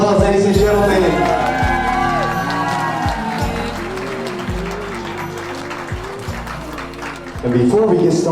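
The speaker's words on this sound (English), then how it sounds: "One more big round of applause, ladies and gentlemen." Wedding guests applauding and cheering at a reception, a loud mass of clapping with shouts and whoops, while a voice talks over the crowd.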